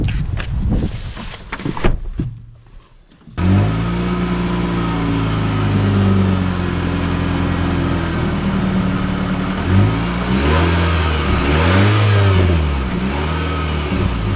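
A 2025 Nissan Sentra accelerating from inside the cabin: after a few seconds of faint rustling, a loud, steady engine hum starts, then rises and falls through several rev sweeps as it picks up speed.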